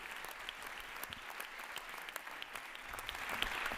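Applause for Pope Leo XIV at the Pontifical Lateran University academic year opening, a steady sustained clapping from a large audience, moderately distant and swelling slightly toward the end.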